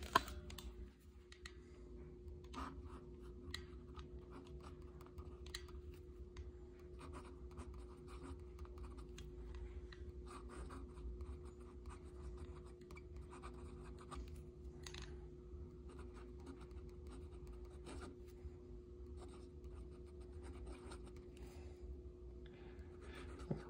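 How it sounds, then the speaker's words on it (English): Santini Italia Libra fountain pen with a gold nib scratching steadily across paper in a short writing sample, a soft continuous nib scrape with small stroke ticks, close and faint, no talking. "But I'll kind of give you a short little writing sample here"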